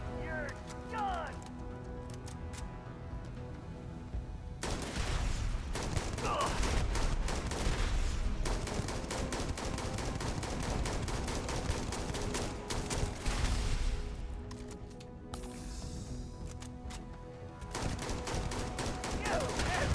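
Rapid automatic gunfire from the space game Starfield crackles in dense bursts through most of the stretch, loud and sustained with brief lulls, while a voice shouts over the shooting.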